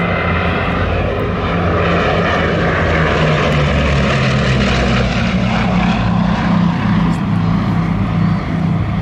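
A Bristol Blenheim flies overhead at Southport Airshow, its piston engines and propellers giving a loud, steady droning roar that persists throughout, with a voice faintly beneath.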